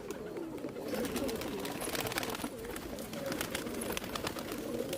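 Kalmuhe pigeons in a Rajasthani loft coo in overlapping soft, throaty rolls, steady and close throughout, with faint scattered background noise and no clear speech.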